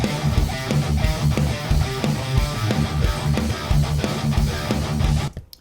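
A double-time rock drum groove drives under a heavy guitar riff, with fast, evenly spaced hits pounding continuously at full level before cutting off abruptly at the end.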